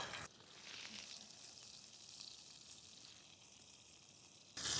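A burger frying in a pan gives a steady, fairly quiet sizzle that hisses on without a break, with no talking over it.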